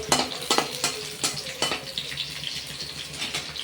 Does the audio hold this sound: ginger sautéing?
yes